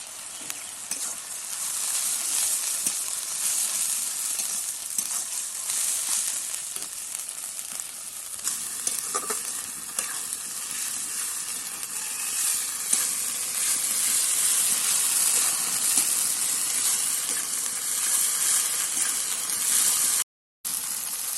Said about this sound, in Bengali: অল্প করে জল দিয়ে মশলাটা কষিয়ে নেব।